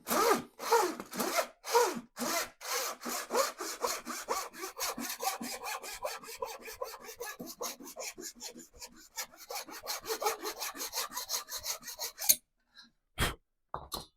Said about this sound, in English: Making light work of it with this new PAX saw.